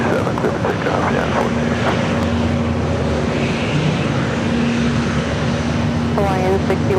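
An Airbus A321neo lines up on runway 27 at San Diego airport, a steady, somewhat distant jet engine rumble that holds evenly throughout while voices talk over it.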